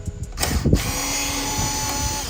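A hand tool grinds and clicks as it backs out metal screws from the interior light of a 2010 Chevy Tahoe LTZ, a couple of close, tight mechanical bursts followed by a steady hum.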